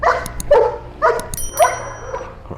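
A person imitates a dog barking, giving four or five loud, close, yelping woofs in an uneven rhythm, with no other talk.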